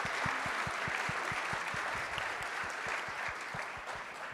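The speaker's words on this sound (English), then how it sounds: "a round of applause again for all of them for what they've showcased" A round of applause for startups at a pitch competition, scattered hand claps from a modest crowd, fairly quiet and distant, with a few sharp individual claps standing out in an irregular rhythm.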